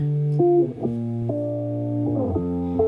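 Sustained electric guitar chords ringing out clean and steady, changing a few times, with a bright, slightly processed tone and no talking.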